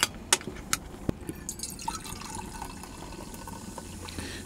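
Hyouketsu chuhai fizzes in a small parked kei van during solo car camping, with a few sharp drips or pops early on, then a soft, steady carbonated hiss without talk.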